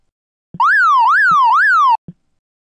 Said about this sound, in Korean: 멀리서 사이렌 소리가 들립니다.